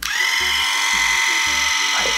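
Oral irrigator running dry in normal mode: a loud, close, high electric whine with a quick regular pumping pulse underneath, continuous throughout.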